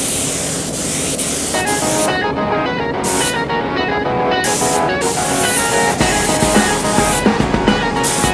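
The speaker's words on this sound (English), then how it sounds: "you just need to spray them with a clear coat and you're done" A steady hiss of spray from an aerosol can of clear coat runs throughout, loud and close, with a few brief pauses and background noise.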